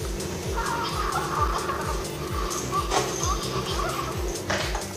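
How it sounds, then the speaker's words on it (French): A Hatchimals Twins toy egg gives off steady, repeated electronic chirps and low pulsing beeps, loud and close, while it waits to hatch. "Tu les entends gazouiller?"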